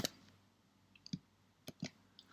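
Several sharp, isolated keyboard keystrokes click close and quiet, spaced irregularly over a faint background hum as a tclsh command is typed.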